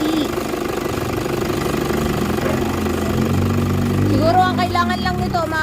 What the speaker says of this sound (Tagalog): tahimik ang makina, hindi siya maalog, hindi siya mayanig